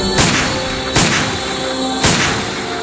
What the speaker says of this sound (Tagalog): Mula sa kapal ng mga tao, bigla na lamang may narinig na kasalang baril.